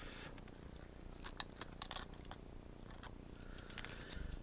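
Scissors trimming a sheet of acetate for papercraft, a series of quiet, crisp snips in an irregular rhythm, close up with no talking.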